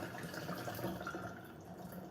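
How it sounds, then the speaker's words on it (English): Steady running water from a kitchen tap while lentils are rinsed in a sink, a continuous broadband hiss with faint dripping, close by and alone. "these lentils are looking pretty well rinsed off"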